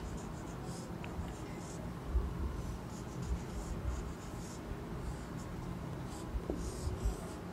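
A marker or pen scratches steadily across a board or paper while a circuit diagram with a battery and resistor is drawn, in short irregular strokes at close range, with faint room noise.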